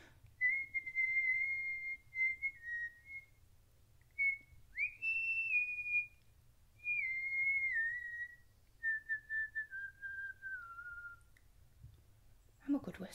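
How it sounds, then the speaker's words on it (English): A person whistles a melodic, Christmas-song-like tune in several sustained, wavering phrases with short breaks between them, close and clear over a low background rumble. "I'm a good whistler."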